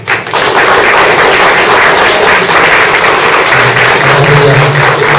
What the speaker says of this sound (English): I hope all of you will join me in a round of applause for him.